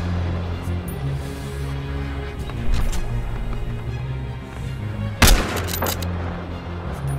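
Sniper rifle fire in the shooter game Battlefield Hardline, with one sharp, loud shot standing out over a rumbling game soundscape and a few fainter impacts around it.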